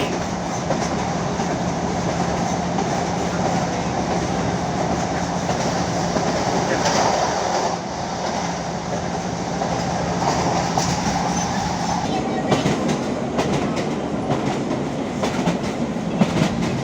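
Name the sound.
train running on the old Maryport and Carlisle railway line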